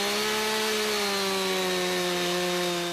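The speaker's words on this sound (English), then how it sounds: "The Norwood Portamill comes ready to use with your chainsaw." A chainsaw runs steadily at high revs while milling a log on a Norwood Portamill riding an extension-ladder track, a loud continuous drone with no talk.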